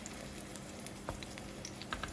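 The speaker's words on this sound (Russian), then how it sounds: "обжариваю баклажаны с каждой стороны по 2 минуты" Quiet, steady sizzle of eggplant frying in a pan over medium heat, with occasional small pops and crackles.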